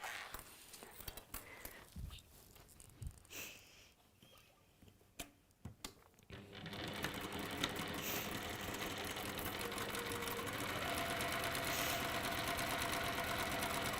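A sewing machine stitching a bag: quiet handling and faint whispery sounds at first, then the motor starts and runs in a steady, close, buzzing whir to the end.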